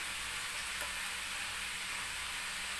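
Steady soft sizzle of oil heating in a pan for masala, a continuous faint crackle close by with no voices.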